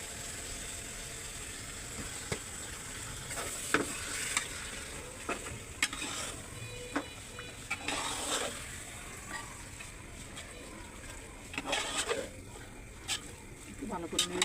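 Fresh Eid sacrifice beef, thigh cuts, being stirred in a pot with spices, giving scraping spoon clicks and a low sizzle at close range, with brief knocks scattered through.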